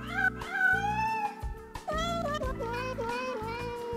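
Cats meow in a sung, tuneful sequence, sustained and wavering over steady backing music, close and loud throughout.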